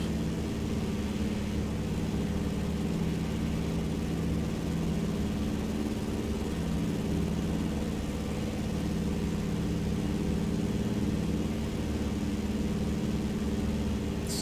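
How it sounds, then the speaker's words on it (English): A de Havilland Beaver radial engine at full throttle in Microsoft Flight Simulator 2020 drones in a steady, unbroken roar, moderately loud and constant throughout. "Engine absolutely firewalled."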